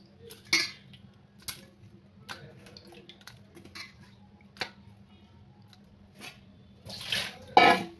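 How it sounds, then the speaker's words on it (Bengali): Fish are being washed in water in a home kitchen, with intermittent splashes and sharp clinks of a metal bowl or utensils. The sounds are close, sparse and fairly quiet against a low background hum. "এবার আমি মাছগুলো ধুয়ে নিচ্ছি।"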